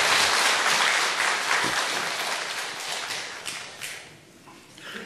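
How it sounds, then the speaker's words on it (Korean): A church congregation applauds to welcome new elementary-department teachers, with loud clapping at first that gradually thins and fades over about five seconds. "인사할 때 박수로 환영해 주세요"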